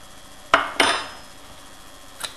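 A utensil clinks against a bowl as apple cider vinegar is stirred into homemade mayonnaise, giving two close, sharp knocks followed by a fainter tap against quiet background.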